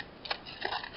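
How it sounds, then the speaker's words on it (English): Scissors snip through craft paper in a few quick, quiet cuts at close range, each a short crisp rasp. "you can take your scissors"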